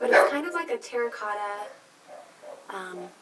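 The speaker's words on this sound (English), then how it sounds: "I'm sorry about the dogs barking in the background." Dogs barking and yipping in the background of a room while someone talks about blush; a few short yelps come faintly under her steady speech.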